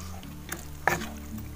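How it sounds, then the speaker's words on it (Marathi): Ground masala paste stirred into chicken gravy in a pot over a wood-fired stove outdoors on a farm: a soft, brief scrape and clack of the spoon against the pot under a faint sizzle. "चांगलं असं मिक्स करून घेऊया."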